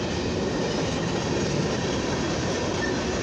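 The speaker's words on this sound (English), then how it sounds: "this is a long Norfolk Southern eastbound mixed freight train" A long Norfolk Southern eastbound mixed freight train rolls past close by, its steady broadband roar of wheels and cars holding constant and loud throughout with no voices.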